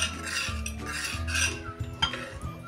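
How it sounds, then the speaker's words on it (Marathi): A spoon stirring lemon-dressed murabba in a pot, with repeated metallic scrapes and clinks against the pot's sides, close and moderately loud. "आणि आता हा एकसारखा हलवून घ्या"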